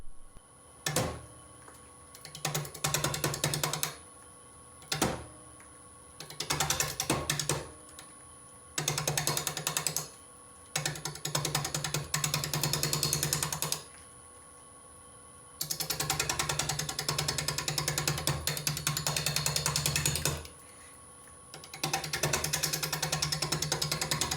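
A wood lathe spinning an unbalanced maple chunk at about 600 rpm, a rhythmic mechanical hum and thumping that starts and stops in several runs separated by quiet gaps.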